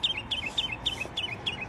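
Bright, repeated bird chirps, a quick series of short high tweets at a steady rhythm, fairly close over faint outdoor background noise.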